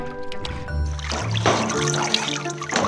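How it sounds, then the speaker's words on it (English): Freshly picked Fuping persimmons are rinsed in water, a soft trickling and splashing with gentle sloshing, close and moderately loud, under low background tones. "After rinsing through water, they are ready to be processed."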